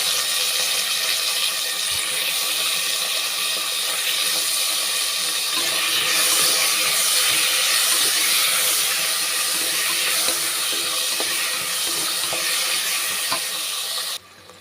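Chopped tomatoes with curry leaves sizzle loudly in a hot pan, a steady broad hiss like steam that holds for most of the stretch and stops abruptly near the end.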